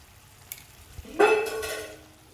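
Chicken frying in a pan with coriander powder and chicken masala being stirred in, a clear close sizzle rising after a couple of soft taps and scraping, with no talking.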